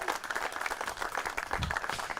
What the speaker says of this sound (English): So a nice round of applause for the staff here as well.